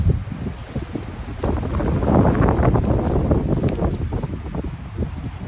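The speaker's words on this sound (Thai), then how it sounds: "ลมแรงจ้ะ แรงมากเลยทุกคน" Strong wind gusts roar and buffet the microphone outdoors in a forest while wild mushrooms are being foraged, a steady loud rushing with rustling that swells in the middle and carries on without talk.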